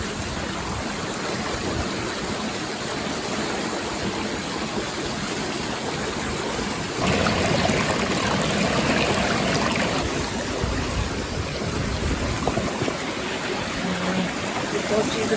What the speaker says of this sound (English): Not sure if you can hear me very well because of the sound of the water